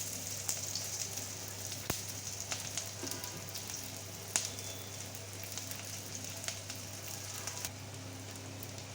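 Chopped onion and green chili frying in oil, a faint steady sizzle with occasional small crackles and pops throughout, low and continuous.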